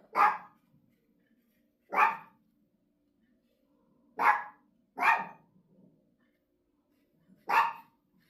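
A dog barks five times in separate single woofs spaced a second or two apart, fairly close and loud, over a quiet indoor background.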